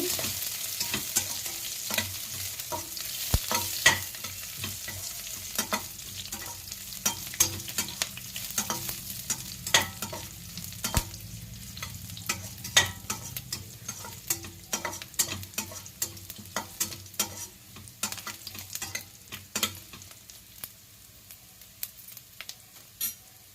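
Sliced onions frying in oil in a pan until golden brown for capsicum rice, a steady close sizzle with frequent spatula scrapes and stirring clicks throughout.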